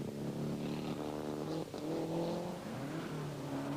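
A rally car roars at high revs across ruts and gravel, its engine note wavering and dipping briefly as it bounces, loud and continuous with no voices.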